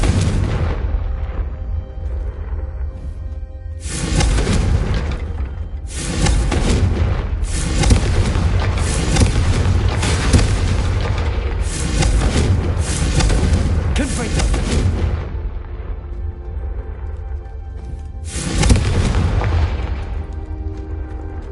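Confringo fire-spell blasts in the game Hogwarts Legacy, a series of heavy booming explosions arriving in bursts with short gaps between them, a voice speaking over the effects.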